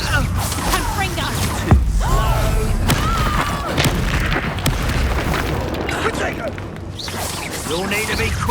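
A Confringo fire-blast spell bursts in Hogwarts Legacy as one loud, deep boom amid constant combat noise, with voices calling spells and talking over the action.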